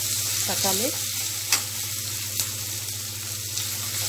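Tomato sautés in a pan with a soft, continuous sizzle and low hum, with a few brief stirring clinks scattered through; a short chirp-like sound appears early on.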